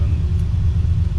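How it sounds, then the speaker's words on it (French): Ferrari 365 GT 2+2 V12 engine holding a steady, deep idle-to-mid rumble, close and continuous with no clear rise in pitch. "vous montez dans les tours pendant 10-20 secondes"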